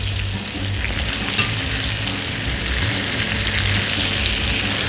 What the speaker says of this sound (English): Let's get some more butter in around the sides. We'll just let that melt.